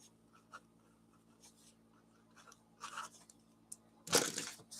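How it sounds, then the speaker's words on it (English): A pen scratches a short note on paper, with faint intermittent strokes that end in a louder burst of paper handling, all quiet and close. "I'd like to write a little note here."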